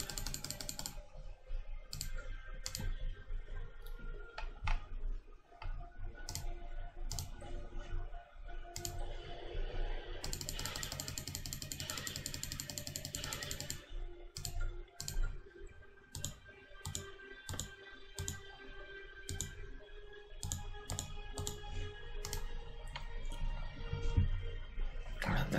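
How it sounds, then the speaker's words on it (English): Rapid mouse clicking and computer keyboard typing while playing Stellaris, sharp close clicks in irregular bursts with steady faint background game music and no talk. "Sorry about the clicking."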